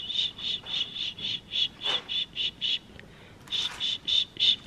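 A young pet bird chirping up close in a barn setting, a regular series of bright, short chirps repeated about twice a second, with a brief pause before the chirping resumes.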